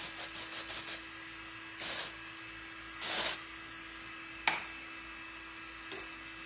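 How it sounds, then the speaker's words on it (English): Style Revival dry shampoo sprayed onto hair in short hissing bursts: a quick rattling series at first, then separate sprays of about a second each, close and fairly quiet. "I am gonna go ahead and spray some Style Revival. It's a super dry shampoo."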